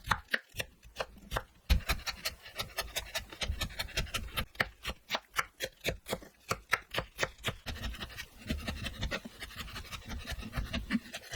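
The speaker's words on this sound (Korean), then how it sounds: "버섯 당면을 잘게 썰어주세요." A knife chops mushrooms and glass noodles finely for kimchi dumpling filling, giving rapid, steady close-up knocks on a cutting board that run without pause throughout.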